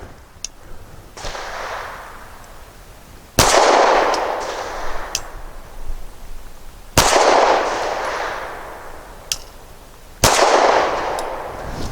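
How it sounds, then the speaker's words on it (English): A Gill Arms GPR 9 all-metal pistol fires at a target outdoors, three sharp loud gunshots spaced a few seconds apart, each trailing into a short echo, with fainter clicks between them. "Really soft shooting in this all-metal gun."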